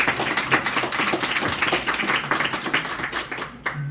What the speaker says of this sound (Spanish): Un aplauso para él, por favor.